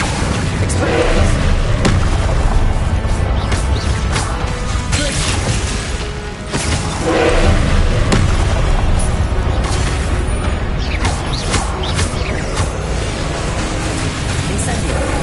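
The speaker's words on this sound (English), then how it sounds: "Explosions." Magic spell explosions in the Hogwarts Legacy video game, repeated heavy booms and crashes over a dense, loud, noisy game soundscape with speech mixed in.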